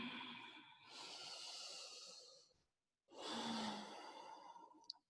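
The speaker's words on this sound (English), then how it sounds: "5 deep breaths." Slow deep breaths in a studio vinyasa yoga class: a long airy exhale, a brief pause, then another full breath, close and fairly soft, with no talking.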